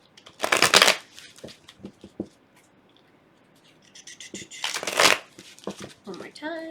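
A deck of tarot cards is shuffled in two loud, close riffling bursts separated by quieter handling taps, with soft speech in between.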